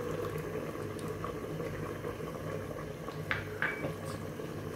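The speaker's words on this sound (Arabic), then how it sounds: "تغلي" White sauce with lemon juice and flour simmers in a pot for an artichoke and fennel stew, a steady low bubbling with a few sharper pops near the end, no voices.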